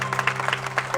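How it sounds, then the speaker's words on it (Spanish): A church congregation claps in a brief, dense burst of applause at the close of a Sunday service, irregular hand claps close by over a low steady hum. "dele ofrenda de palmas al Rey por todo lo que hemos visto"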